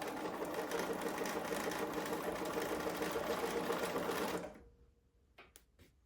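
A sewing machine chain-pieces quilt blocks with a 1/4 inch seam, running in a fast, steady hum for about four seconds before stopping, followed by a few quiet clicks.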